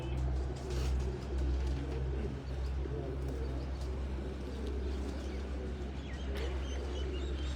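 Pigeons from a Faisalabad champion flying loft coo softly over a steady low hum and some background noise, with no voices.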